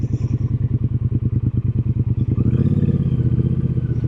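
Triumph Speedmaster motorcycle, a long-wheelbase shop-built chrome bike, pulling hard under acceleration: a loud, close engine with a rapid steady firing pulse that smooths into a fuller, higher drone as it gains speed.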